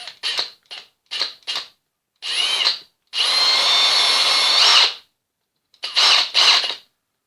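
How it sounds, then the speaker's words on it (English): A power drill boring a hole freehand into a wooden board, heard as several short whirring bursts followed by a long, sustained high-pitched drilling run and two more brief bursts, close and loud with no talking. "I eye it in so I'm in the middle of the board and drill the hole."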